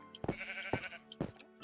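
Sheep in Minecraft bleat in short bursts, about three distinct nasal calls spaced roughly half a second apart, close and clear with nothing else over them.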